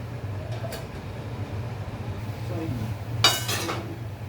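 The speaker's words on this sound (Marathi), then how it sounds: "ठेवूया झाकण" A metal lid is set onto a cooking pot on a running gas stove during Dal-Baati preparation, giving a short bright clatter and clink near the end over a steady low burner hum.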